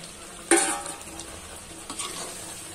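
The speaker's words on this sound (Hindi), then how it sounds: "ये बैगन 5 मिनट हो गए हैं, अब हम बैंगन डालेंगे।" Brinjal tossed into a pan of frying spices lands with a loud sizzling burst, followed by steady hissing and a few spoon scrapes as it is stirred.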